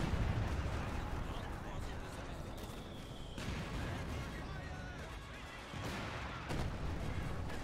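Heavy in-game bombardment with dense, continuous rumbling blasts and artillery fire through the whole stretch, loud and close, with a sharp surge near the end while a player talks over it.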